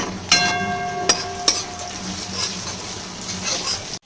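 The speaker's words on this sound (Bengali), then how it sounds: "কটা গোটা লঙ্কা দিয়ে দিচ্ছি, এরকম করে ফাটিয়ে, যাতে ঝালটা ভালো হয়" Whole chilies and onions sizzle in hot frying oil, a steady crackling hiss close by, broken by three sharp clinks of a utensil against the pan early on.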